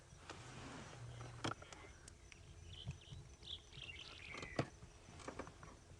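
A bird calls on an early-morning African safari drive: faint, scattered chirps and a few sharp tweets over a soft bed of insect buzz and distant low hum.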